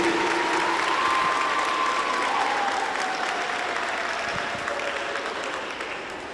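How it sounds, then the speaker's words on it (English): An audience at a girls' athletic recruitment event claps in a steady, even wash of applause that holds for several seconds and slowly tapers, with a faint sustained tone beneath. "Let's give them a round of applause"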